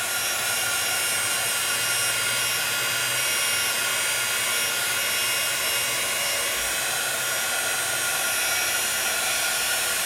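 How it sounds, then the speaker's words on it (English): A small dual-speed Sizzix heat tool blows hot air onto shimmer powder to dry it, producing a constant loud, close whooshing roar with a steady whine throughout. "Let me grab my little heat tool from Sizzix really quick, and let me see if I can get this one to dry just a little bit."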